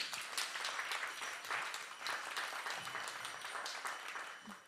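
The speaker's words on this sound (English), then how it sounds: "big round of applause" Sustained applause from an audience at a temple school gathering, dense clapping held steady and fairly loud throughout with no talk over it.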